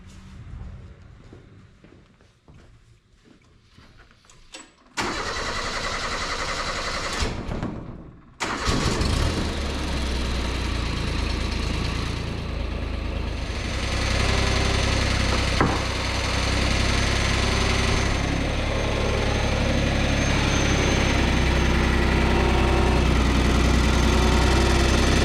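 A Steiner 230 tractor engine cranks, catches and roars to life, then settles into a loud, steady idle up close.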